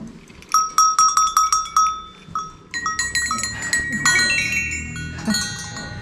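Several metal bells ring one after another in Yazd, Iran, each with its own pitch, bright clangs decaying and then overlapping into a busier jangle near the end.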